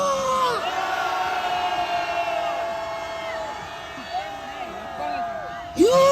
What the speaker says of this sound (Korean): 함성 발사.